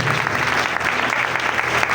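A church congregation at a Christmas meeting bursts into strong, continuous clapping, a dense, steady wash of many hands from a hall full of people, loud and even for the whole stretch.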